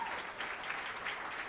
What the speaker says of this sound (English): You don't have to clap twice.